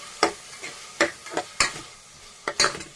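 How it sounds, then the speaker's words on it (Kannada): A spatula stirs onions frying with tomato in a pan for chicken biryani, giving soft sizzling under a handful of distinct scraping strokes at irregular intervals, close and fairly quiet, with no talking. "ಇವಾಗ ಈರುಳ್ಳಿ ಹಾಕೊಳ್ಳೋಣ. ಒಂದು ಸ್ವಲ್ಪ ಫ್ರೈ ಮಾಡ್ಕೊಳ್ಳೋಣ."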